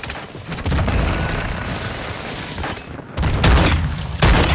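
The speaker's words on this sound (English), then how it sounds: "Throw a grenade!" In a Call of Duty firefight, a grenade blast and gunfire boom out as loud, dense bursts of explosion and shooting with dull thuds between them, with no voices heard.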